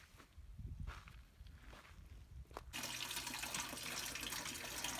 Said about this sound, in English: filling up some hot water here